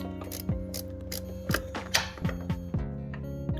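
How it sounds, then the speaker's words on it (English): Ratchet wrench turning a lower door hinge bolt on a 2007 Chevy Suburban, a run of quick clicking strokes in several bursts, close and fairly quiet with no talk. "Okay, so second bolt is now removed."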